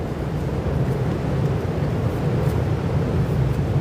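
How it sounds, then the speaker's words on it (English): Steady wind rushes and rumbles against the microphone on the Brooklyn Bridge, a dense low roar that stays loud and constant with no voices. "It's windy."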